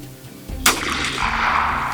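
A 12 gauge shotgun fires one sharp, loud blast that rolls out into a long, echoing tail across open ground.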